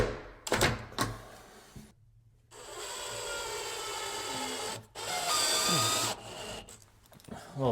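A power drill bores a small pilot hole for bifold door track screws, two short whirring bursts after a few knocks, with the motor rising and slowing as the bit bites.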